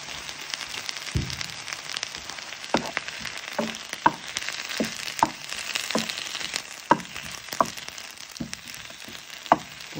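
Scallops fry in a small knob of butter for a scallop terrine, a soft continuous sizzle close by, punctuated by sharp intermittent pops and taps from the pan.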